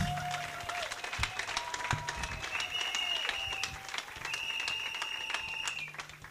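A church congregation applauds at a Hadassa meeting, a continuous dense clapping with cheers and ringing tones over it, a sustained crowd sound.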